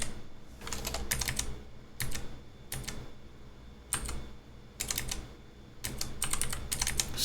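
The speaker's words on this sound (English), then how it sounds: "I'm just going to type like debug." Typing on a computer keyboard, close-up bursts of quick key clicks separated by short pauses, fairly quiet against a faint room hum, with no speech.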